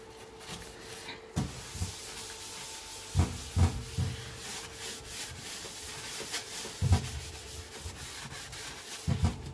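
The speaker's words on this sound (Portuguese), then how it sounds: "Esfregar." A sponge with detergent scrubs the inside of a switched-off oven, rough rhythmic rubbing strokes close by with occasional knocks, and no talking.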